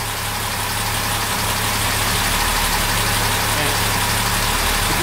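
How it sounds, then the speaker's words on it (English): An SU-carburetted car engine idles steadily with a low, continuous rumble, its note rising slightly at times as the carburettors are tuned; close and fairly loud throughout. "If you hear that, you hear the engine note go up slightly."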